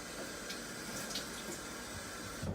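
Water runs steadily from a tap to rinse an apple, a soft continuous hiss with faint splashes near the end.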